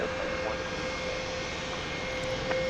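Steady broadband roar of aircraft engines at Dallas Love Field Airport at night with Delta jets on the ground, a constant distant drone with a faint steady tone.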